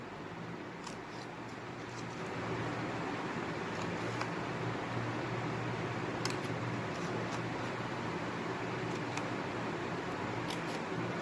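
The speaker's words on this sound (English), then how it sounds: "Now I have to cut these 4 corners also." Scissors snip the corners off a small square of paper, a few faint, quick cuts heard up close over a quiet, steady background hiss.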